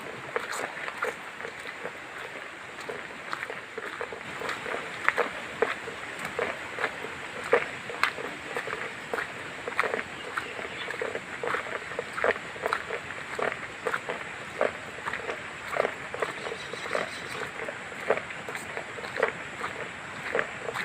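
Irregular footsteps crunching over debris-strewn ground outdoors after Typhoon Kristine, a steady run of close, fairly loud steps across about twenty seconds with no talking.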